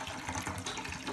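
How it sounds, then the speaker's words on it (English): Water poured from a small cup into an MRE ration pouch, a steady close splashing and trickling fill that runs continuously without a break. "And let's add some water."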